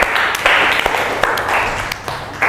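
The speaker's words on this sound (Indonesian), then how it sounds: "kepada kelompok pertama kita kasih aplaus" Steady applause from a classroom of students for the first group, sustained clapping filling the whole stretch at fairly close range.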